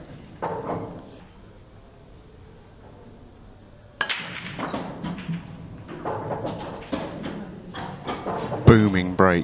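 A booming break shot in a British Open eight-ball pool final sends balls clattering and clicking across the table, a sharp crack followed by scattered knocks, with commentary voices over it.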